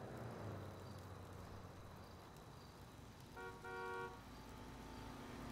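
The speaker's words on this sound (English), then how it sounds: "Honking." A car horn sounds on a road at night, two short toots close together, faint and somewhat distant over steady traffic and road noise.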